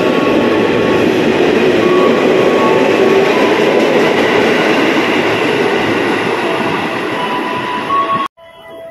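A commuter train at KRL Sudirman station in Jakarta rumbles loudly and steadily through the platform area with grinding rail noise and faint squeals, then cuts off abruptly near the end.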